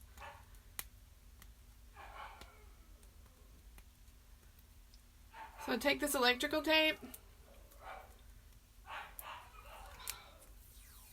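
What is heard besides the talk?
dogs barking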